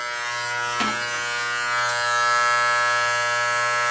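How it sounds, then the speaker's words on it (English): An electric razor buzzes steadily close by as it trims hair on the back of a neck, a constant loud hum with a brief scraping pass near the start. "I flipped the razor around"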